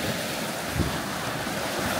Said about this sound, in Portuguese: É essa onda que traz o gelo